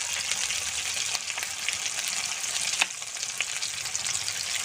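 Ground spice paste hits hot oil in a pan for a broccoli and egg curry, producing a loud, dense, steady close sizzle with a few faint stirring clicks and no speech.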